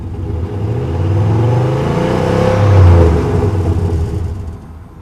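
A stock Chevy truck engine revs up through its exhaust, a deep rumbling swell that climbs twice to a peak before easing back, close and steady with no voices.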